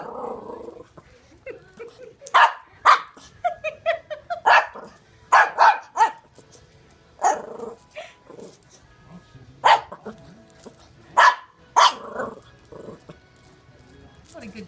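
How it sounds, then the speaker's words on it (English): A dog barks and growls in sharp, irregular bursts close by, taking on a crawfish at the water's edge, with short pauses between barks and people talking quietly in the background. "What a good guard dog."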